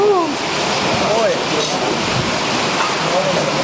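Heavy rain pours down outside during a trip in Vietnam, a loud continuous wash of noise with a few faint voices or calls briefly rising above it.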